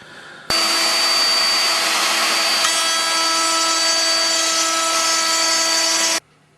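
Power tool cutting a groove along the mating face of a wooden panel, a loud, sustained high whine that starts and stops abruptly, with no talking.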